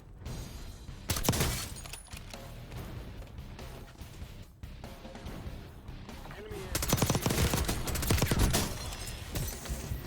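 Gunfire in Warzone comes in bursts of rapid automatic shots, with crashes and shattering mixed in. A player talks through the action.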